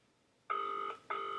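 A telephone rings at moderate volume with two electronic ring bursts, the first about half a second long and the second starting after a short gap, in an otherwise quiet room.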